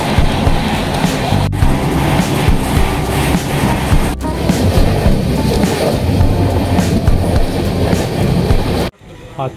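A moving passenger train on the Thane to Ratnagiri route rumbles steadily with a broad, continuous roar and faint rhythmic clatter, close and loud throughout, with two brief sharp knocks and the noise dropping away abruptly near the end.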